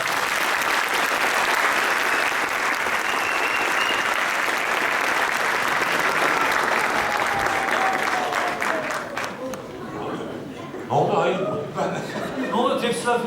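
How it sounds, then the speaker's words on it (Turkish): Applause from an audience at a stage event in Beypazarı, Ankara, a loud sustained clapping wash that tapers off near the end as a speaker's voice and some chuckling come through. "Alkışlar."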